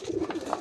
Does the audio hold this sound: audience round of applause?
no